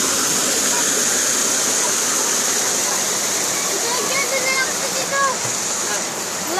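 River water rushing steadily nearby, a loud continuous wash of flow and splashing, with people talking over it.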